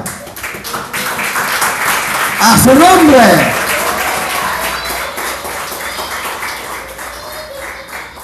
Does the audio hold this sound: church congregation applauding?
yes